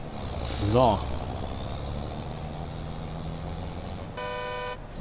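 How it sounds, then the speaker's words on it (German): A truck horn in Farming Simulator 22 gives a short, loud honk over steady engine rumble, and a second blaring horn tone follows near the end, while someone talks over it. "Na, die Hupe von dem LKW"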